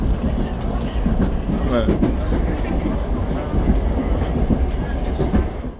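A metro train rumbles along from inside a carriage, with steady rolling noise, rhythmic clicks and a faint squeal, and voices murmuring under it.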